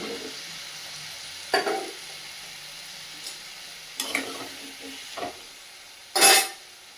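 Potatoes fry in a hot pan, with a low steady sizzle broken by several short, sharp bursts of stirring and scraping, close and fairly loud.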